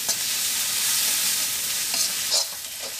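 Ginger garlic paste fries in oil in a large pan as a loud, continuous close sizzle. Occasional stirring scrapes come through near the end, and nobody speaks.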